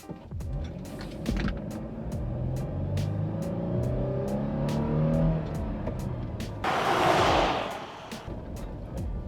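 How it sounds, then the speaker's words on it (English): A 5th-gen Toyota 4Runner with a Pedal Commander accelerates hard from a standstill toward 60 mph. Heard from inside, the engine note climbs steadily through the gears under constant road rumble, and a loud wind rush comes near the end. "I will be driving towards the other end, and we're gonna go from 0 to 60."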